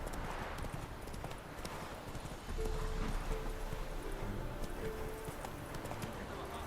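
Horse hooves clip-clop in The Witcher 3: Wild Hunt, a steady trotting rhythm under game ambience and a voice talking over it, with a deeper rumble joining partway through.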